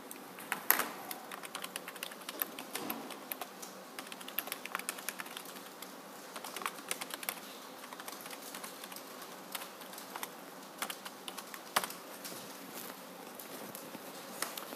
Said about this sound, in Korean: 새로운 문장을 하나 쳐봤어요.